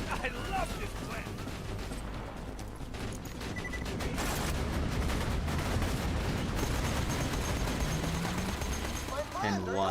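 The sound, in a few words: explosions and gunfire in video game Borderlands 2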